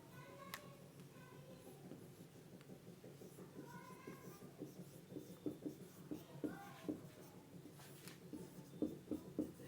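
Chalk or marker strokes on a classroom board during a Hindi-medium physics lesson on the Wheatstone bridge, soft scratchy marks in short bursts under faint room noise and distant children's voices.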